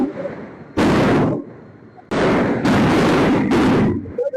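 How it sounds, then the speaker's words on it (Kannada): Firecrackers set off by celebrating fans burst in several loud, close, crackling volleys separated by short gaps, with crowd noise underneath. "ಇನ್ನೊಂದು ಕಡೆ ಪಟಾಕಿ ಸಿಡಿಸಿ ಅಭಿಮಾನಿಗಳು ಸಂಭ್ರಮಾಚರಣೆಯನ್ನ ಮಾಡ್ತಾ ಇದ್ದಾರೆ."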